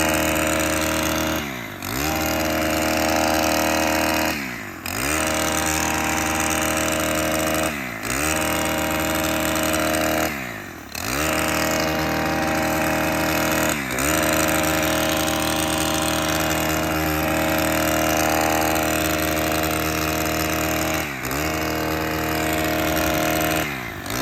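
A STIHL Kombi engine tool with a hedge trimmer attachment, trimming trees, buzzes loudly and continuously near the listener, its engine pitch dipping briefly every few seconds.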